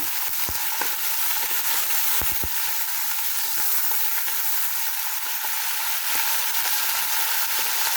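Chicken liver sautés in a hot pan for pancit, giving a steady, loud, close sizzle that runs without a break, with a few low knocks of stirring scattered through.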